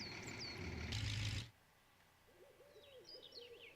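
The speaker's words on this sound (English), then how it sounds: "Why is that owl hooting?" A low, repeated hooting owl call in the video game Spintires: MudRunner, soft and somewhat distant, following a brief burst of louder noise, with faint bird chirps above.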